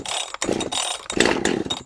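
A petrol chainsaw engine on a flat surface with the chain brake on fires and revs loudly in rough bursts, then cuts out at the end, close and with no talking.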